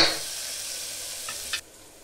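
Garam masala sizzles in a hot pan in Daba-style masala rice cooking, a steady bright hiss heard up close, broken by a short clatter before the sizzle drops to a quieter level.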